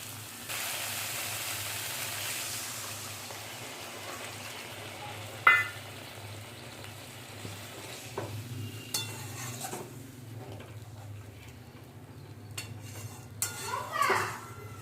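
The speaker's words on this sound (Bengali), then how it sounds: "মশলাটা কষানো হলো," Spice paste for a chital fish belly curry is stirred and fried in a pan at home, a soft steady sizzle under scattered scraping and clinks of a utensil against the pan, with a sharper metallic knock midway.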